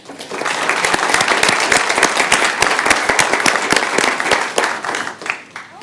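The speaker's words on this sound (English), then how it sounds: "So I'd like to give her a round of applause." Audience at a city council meeting in Lee's Summit, Missouri, gives a round of applause, sharp overlapping claps building quickly, holding steady, then tapering near the end.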